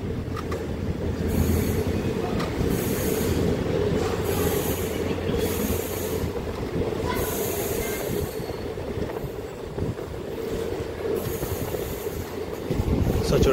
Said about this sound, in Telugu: గైస్ మనం వచ్చాము, మేము బయలుదేరుతున్నాం కూడా మనోహరాబాద్ జంక్షన్ నుండి.